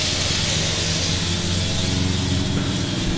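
A spray gun applies finish to a keyed surface in a steady, loud, continuous hiss that fills the whole stretch with no talk.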